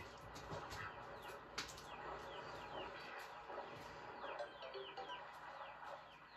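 Ducks quacking and clucking over a continuous bed of game ambience in Wii Sports Resort, with a mother duck among them. Overlapping calls repeat steadily across the scene at moderate level.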